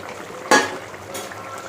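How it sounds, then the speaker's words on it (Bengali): Fried prawns dropped into a boiling vegetable curry make a single sharp splash-sizzle burst, close and brief, that fades back into a low steady bubbling simmer. "এবার আমি দিয়ে দেবো ভেজে রাখা চিংড়ি মাছ"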